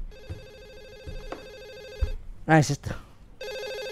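A telephone rings with a repeating electronic bell in a video game, loud and steady, then breaks off while someone speaks briefly in Spanish before the ringing starts again.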